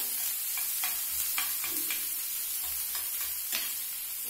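Onions fry lightly in a pan for a pointed gourd mash. A gentle, quiet sizzle runs underneath while a spoon scrapes through them in intermittent strokes, close up with no voices.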